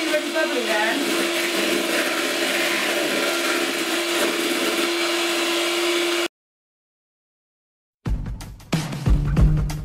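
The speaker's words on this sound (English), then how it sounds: "I'm basically just giving that a really good whisk up" Gluten-free lemon sponge cake batter whisked with an electric whisk: a steady, loud motor whir runs for about six seconds, stops abruptly into silence, then returns briefly with some clattering.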